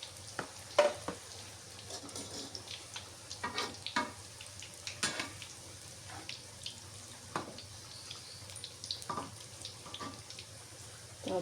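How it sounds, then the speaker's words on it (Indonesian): Corn fritters (bakwan jagung) frying in oil in a home kitchen pan over moderate heat, a soft, steady sizzle with scattered crackles and clinks of utensils, fairly quiet and without talk. "Kalau menggoreng bakwan jagung itu apinya jangan terlalu besar"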